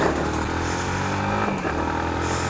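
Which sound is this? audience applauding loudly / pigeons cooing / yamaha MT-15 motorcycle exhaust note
yamaha MT-15 motorcycle exhaust note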